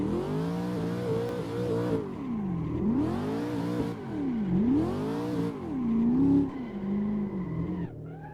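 A car drifts over a hill in Assetto Corsa, tires squealing in long sweeping swells while the engine revs rise and fall through repeated slides, loud and close throughout.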